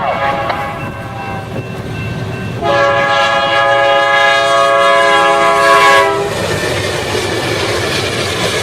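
A westbound Santa Fe train led by two Warbonnet GE C44-9W locomotives races by in Garry's Mod, a loud chord horn blaring for several seconds over rolling wheel noise that continues after it stops.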